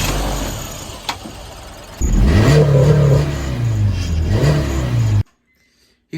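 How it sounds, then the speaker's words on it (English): A 1999 Honda Civic with a GSR engine swap revs hard, rising and falling through several throttle blips after a rougher idle, then cuts off abruptly into silence; close and loud. "He's got to get in a rev it."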